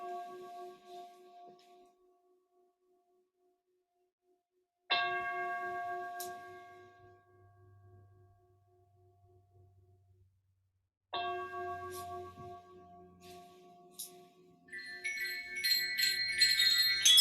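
A meditation bell is struck twice, several seconds apart; each ring opens brightly and decays slowly into a long, sustained hum in a quiet room, with faint high tinkling near the end.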